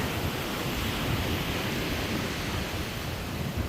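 Ocean waves wash in at a point where two bodies of water meet, a dense, steady roar of surf with wind rushing across the microphone and no voices.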